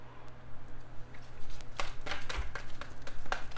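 Oracle cards shuffled through once more, giving a close series of crisp papery slaps and riffles that grow busier partway through, with no one speaking.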